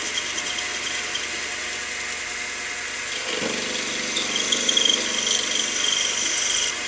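An aluminum workpiece turns on a lathe, cutting smoothly once past the set screws. Steady machine hum and a bright cutting whine carry throughout, growing slightly busier with rattly chatter in the second half. No voices.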